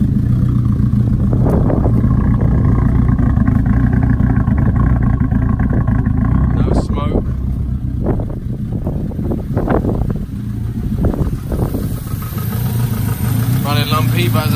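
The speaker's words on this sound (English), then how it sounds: "But yep, we're moving. There's no smoke. The car's alive. It drives." Fiat Punto GT engine running steadily as the car drives, a loud continuous rumble with wind buffeting, joined by a few brief clunks and knocks; the car has not been serviced or had new spark plugs in a long time.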